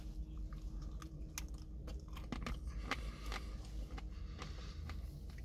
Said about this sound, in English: that's what I'm eating now, the thick bit of chocolate on the top.